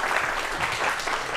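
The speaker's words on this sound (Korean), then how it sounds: "오늘 귀한 시간 내주신 두 분에게 박수 부탁드리겠습니다" Applause from a studio audience on a Korean science lecture program, a steady dense wash of clapping without pause, fairly close and even in level throughout.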